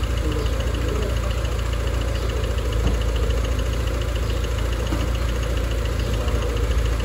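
Honda car idling in an auto repair shop, a steady continuous engine drone with a constant low rumble and no change in pace.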